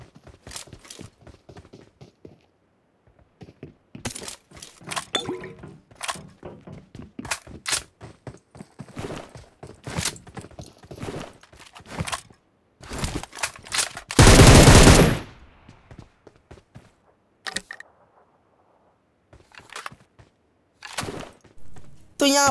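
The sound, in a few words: M762 rifle gunfire in the video game BGMI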